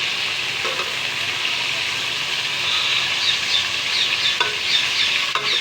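Chicken fries in hot oil with garlic and ginger in a pan, a steady close sizzle and hiss with occasional stirring scrapes, loud and continuous with no talking.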